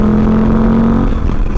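KTM 790 motorcycle fitted with a rally intake, its engine droning steadily and loudly under acceleration for a second or so before easing slightly, heard up close with no talking.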